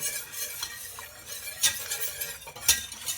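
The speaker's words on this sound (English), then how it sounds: "Doing it in this big bowl, that way it's easier to whisk the roux in." Japanese-style curry being whisked with roux in a big bowl, giving a soft, steady scraping stir with a couple of sharper clinks of the whisk against the bowl, close and quiet.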